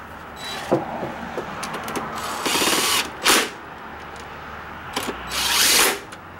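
A power drill drives throttle bracket screws on a Ford 4.6 two-valve V8 intake manifold, giving several short, close whirring bursts with clicks and handling noise between them.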